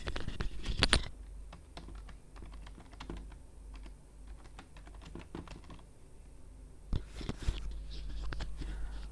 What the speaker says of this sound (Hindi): इधर मैं टाइप कर रहा हूँ स्टूडेंट रिपोर्ट शीट